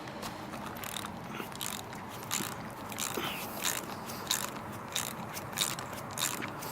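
A ratchet loosens a nut on a coilover shock during a drift car build, giving rapid clicking bursts at close range with faint background noise and no talking.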